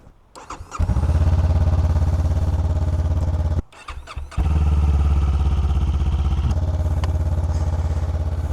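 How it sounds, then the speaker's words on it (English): A Honda CB500F motorcycle engine cold start: it cranks briefly, then catches and settles into a loud, steady idle, cuts out for a moment, and restarts to idle again. "Here we are, cold start for the Honda."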